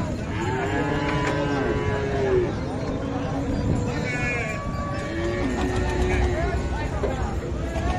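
Cattle lowing repeatedly at a riverside livestock market in Bangladesh as trawlers loaded with cows dock, several long moos rising over a steady crowd hubbub and engine rumble.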